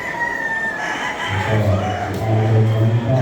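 A yellow-legged stag gamecock at a cockfighting derby sounds loudly and continuously with crowing and clucking over steady background noise.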